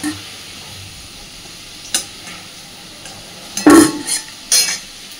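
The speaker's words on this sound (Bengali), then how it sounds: "এইবার সমস্ত আলুগুলোকে তেল থেকে তুলে নেব।" Metal utensil scraping and clinking against a wok as fried potatoes are lifted out of hot oil, with a faint sizzle of the oil in between.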